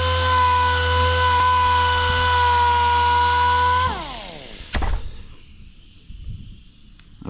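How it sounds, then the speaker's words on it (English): Hutchins pneumatic sander with 80 grit sandpaper working on a 1976 Cadillac Eldorado, a loud, steady high whine that winds down after about four seconds, followed by a sharp knock and faint handling noises. "It's a Hutchins pneumatic. 80 grit sandpaper, just barely giving it any."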